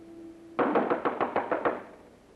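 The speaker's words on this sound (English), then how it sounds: "Whoever's knocking at your door is someone who wants to speak to me." Someone raps on a door in a 1967 science-fiction film, about eight firm, evenly spaced knocks in a quick run, fairly close over a faint steady background hum.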